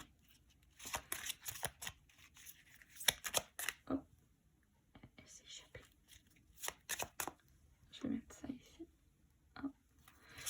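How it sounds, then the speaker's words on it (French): A deck of Singular Witchy oracle cards (first edition, dark moon) is shuffled up close in quick riffling bursts separated by short pauses, with a soft voice speaking in between. "c'est vraiment pour au moins une fois que les cartes sont bien mélangées"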